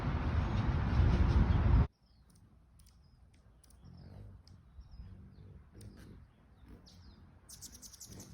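Small birds chirp faintly in a grassy yard with scattered short calls at a distance, following a brief burst of loud rustling noise at the start.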